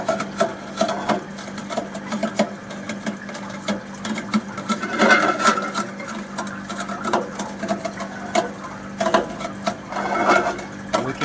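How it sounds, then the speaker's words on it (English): Continuous rough scraping and rasping of a stainless steel blade grinding against the ice layer in a marine seawater flake ice machine, with irregular clicks and bursts, steady and fairly close, no voices. "Hear the sound when the ice blade works on the ice layer."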